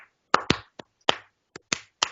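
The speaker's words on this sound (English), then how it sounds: "just start tapping on something" Hands tapping out a loose rhythm on a surface, about eight crisp slaps with uneven spacing, close and clear in a quiet room.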